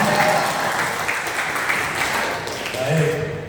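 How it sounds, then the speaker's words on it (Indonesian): Audience at a regional association assembly in East Java claps in a short burst of applause, with voices mixing in under the clapping. "Tepuk tangan lagi Pak."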